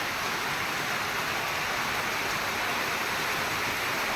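Steady, dense hiss of heavy rain falling continuously on a village in Sorath, Gujarat, even and unbroken, with no voices.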